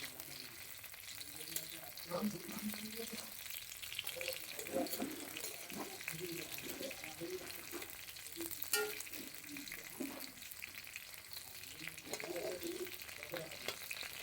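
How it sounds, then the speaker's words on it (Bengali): Pabda fish frying in a pan in a Bengali-style home kitchen, a steady faint sizzle with light scraping and stirring throughout, plus a few small clinks. "ভালো করে ভেজে নেব যাতে ভিতরে কাঁচা না থাকে।"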